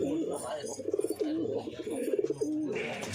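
Several high flying pigeons from a breeding pair set coo in soft repeated bursts, close by, with a faint voice under the calls.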